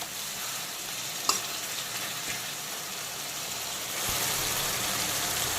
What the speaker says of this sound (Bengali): আবারও বেশ কিছুক্ষণ সময় নিয়ে পুরো মশলাটাকে কষিয়ে ভাজা ভাজা করে নেব